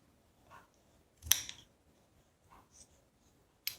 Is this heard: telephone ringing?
no